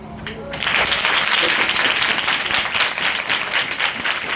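A church congregation bursts into steady, sustained applause after a brief quieter moment, the massed clapping holding loud and even to the end.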